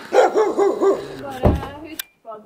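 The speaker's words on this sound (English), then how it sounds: "here's a dog saying hello" A dog deep in the woods in Norway gives a quick series of rhythmic, nearby barks and yips, followed by a brief louder burst, with a person speaking around it.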